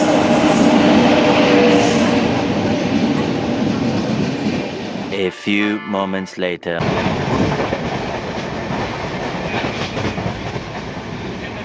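A superfast express train bound from Trichy to Howrah rumbles steadily and loudly at close range with continuous rail noise and rhythmic wheel clatter. A brief voice cuts in around the middle before the rolling noise resumes.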